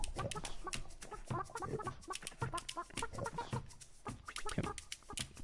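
A chicken in the video game Burly Men at Sea clucks in a busy run of short, close, repeated calls, with no talking.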